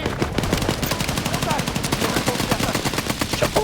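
Rapid, sustained gunfire fills a Warzone match, a dense run of automatic bursts with a steady rattling rhythm throughout, loud and close with little pause.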